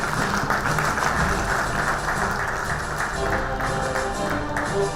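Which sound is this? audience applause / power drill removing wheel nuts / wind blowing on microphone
audience applause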